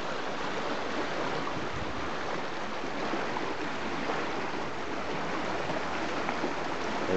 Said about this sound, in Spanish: El río Cañaveralejo.